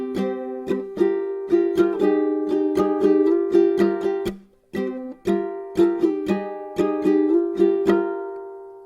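A ukulele plays the verse of the One Piece opening, mixing quick strummed chords and plucked notes in a steady rhythm, close and clear, with a short pause midway and a final chord left to ring.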